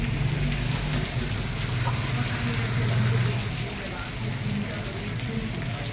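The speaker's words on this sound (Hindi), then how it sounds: "और ये देखो बारिश" Rain pours steadily during a storm with lightning and wind, making a constant close hiss and patter throughout while someone talks over it.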